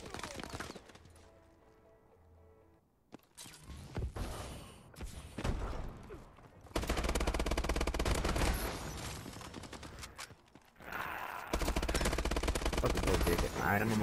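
Bursts of rapid automatic AK-12 rifle fire in Call of Duty Advanced Warfare, loud and close, broken by a few quieter gaps and a short dropout between volleys.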